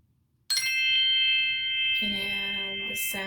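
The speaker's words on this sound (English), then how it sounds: "And the sound of the chime" A meditation chime rings out clearly, a sustained bright metallic tone with long decay, joined near the end by a second, lower ringing strike, heard alone during a new moon awareness practice.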